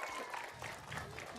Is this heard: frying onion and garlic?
no